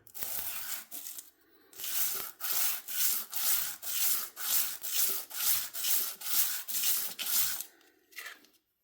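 A Kizer Nomad knife part sanded by hand on 240 grit sandpaper, about a dozen rhythmic back-and-forth rasping strokes at a steady pace, close up, after a few irregular initial rubs, with no talk.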